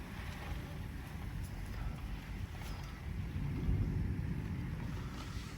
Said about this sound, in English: Man, that's a really strong wind.